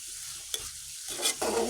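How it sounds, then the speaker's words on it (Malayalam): Onions sautéing in a pan for a mushroom roast: a quiet sizzle broken by short scraping stirs of a spoon against the pan, close up and without talk. "ഇപ്പോൾ പകുതിയായിട്ടുണ്ട് സവാള പകുതി വഴന്ന് വന്നിട്ടുണ്ട്"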